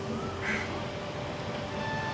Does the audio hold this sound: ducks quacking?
yes